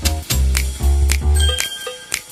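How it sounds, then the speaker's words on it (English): A game-style bell rings a few times in quick bursts over synth music, bright and fairly loud, with no talking. "Hey, there's the bell"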